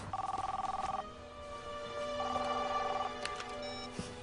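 A telephone rings in a film scene, two clear bursts of an electronic trilling bell separated by a pause, fairly close and loud, with faint background noise and no talk.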